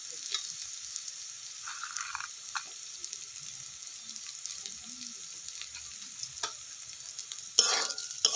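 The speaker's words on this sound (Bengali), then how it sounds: "একদম এর মধ্যে ভালো করে নাড়াচাড়া করে একটু ভেজে নিচ্ছি" Broken peanuts stir-fried in a pan with frying potato and eggplant for bathua greens, a soft steady sizzle broken by intermittent spatula scrapes and clinks, with one louder stirring burst near the end; no talking.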